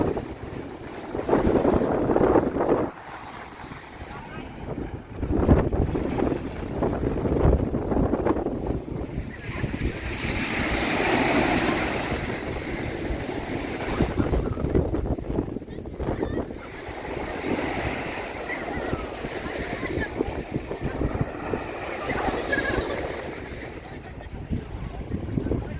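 Sea waves and strong wind on the beach at Cannes, with rough gusting wind buffeting the microphone over a continuous wash of surf, swelling and easing across the whole stretch, loud and close.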